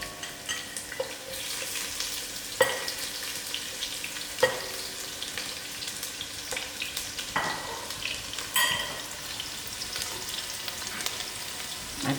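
Onions frying in oil for a vegetable biryani, a continuous sizzle broken by sharp spoon scrapes and knocks against the pot every couple of seconds.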